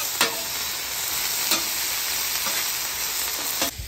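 Strained leeks and vegetables frying on a griddle, a steady close hiss of sizzling with occasional scraping clicks as the pan is stirred.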